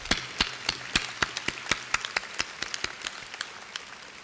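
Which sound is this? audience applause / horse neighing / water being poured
audience applause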